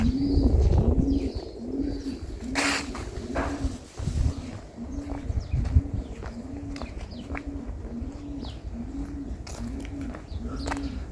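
Pigeons in a farm pigeon house coo in a steady, repeating rhythm, close and clear, with scattered clicks and rustling around them and a brief bit of talk.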